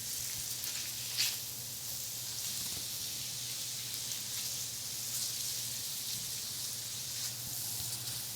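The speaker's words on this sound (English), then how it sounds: "I'm going to give this a stir." Lemon spinach shrimp pasta sizzles steadily in a hot pan while being stirred, a soft continuous frying hiss with faint scraping, close and even throughout.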